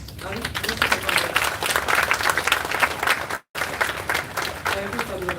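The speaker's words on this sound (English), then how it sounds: "Thank you for your applause." An audience at a university campus event breaks into sustained applause, dense and steady with a brief dropout midway, while a voice speaks faintly beneath the clapping.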